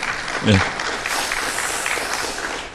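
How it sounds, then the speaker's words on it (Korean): Audience applause at a formal assembly session greeting a university law professor, a sustained wash of clapping heard under a brief voice near the start. "박수 치시려면 화끈히 치셔도 됩니다"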